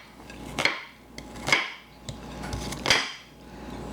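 A knife cutting chives on a cutting board gives a few sharp, separate chops, close and distinct, about four knocks spaced roughly a second apart, with no talking.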